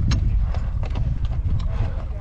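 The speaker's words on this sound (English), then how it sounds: "I think like 6 horses are hanging out over there taking a little rest." Horses walking on a rocky mountain trail in Kings Canyon National Park, their hooves making steady, uneven clip-clop beats close by while people talk over them.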